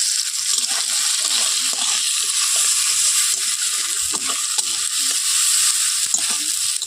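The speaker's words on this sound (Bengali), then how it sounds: "মূলো ভাজা হয়ে গিয়েছে, এর মধ্যে এবার আমি দিয়ে দেবো কেটে রাখা টমেটো" Radish, tomatoes and spices frying in a pan, a loud, steady hiss of sizzling oil with crackles and the scrape of stirring throughout, close by and with no talking.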